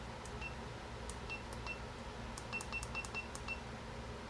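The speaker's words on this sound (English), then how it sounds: "Volume setting, that's for the beeper." Electronic beeper of a FNIRSI HRM10 internal resistance battery tester chirping a series of short, thin beeps, several quick ones clustered near the end, faint over steady background hum.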